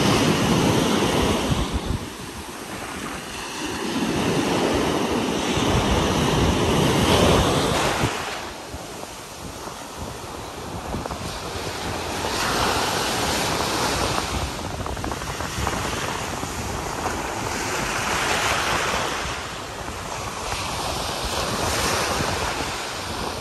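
Ocean surf rolling onto Apsarakonda beach on the Karnataka coast, with repeated swells of breaking waves rising and fading every few seconds, steady wind rumble over the microphone, no voices.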